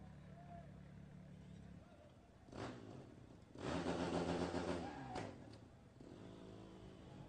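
A Sportsman-class motorcycle engine at the 2023 SCORE Baja 400 off-road race revs in a few rising bursts, the loudest in the middle, with voices talking around it at a moderate distance.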